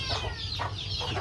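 A brooding hen on a farm gives a few soft, low clucks in a quick rhythm, close and fairly faint, heard alone for just over a second.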